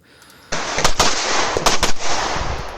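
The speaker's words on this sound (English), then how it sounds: "as soon as I see the dot, I pull the trigger twice" A pistol fires during a USPSA match: after a near-silent start, loud close sharp reports crack out in quick bursts against a noisy outdoor background, with no talking.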